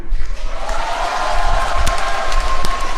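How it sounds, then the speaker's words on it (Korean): An audience at a Seongnam city public meeting with the mayor applauds steadily, a broad continuous wash of clapping with a few sharper claps and some voices mixed in. "이 박수 치는 분들도 많으신 거 보니까 맞는 모양이네"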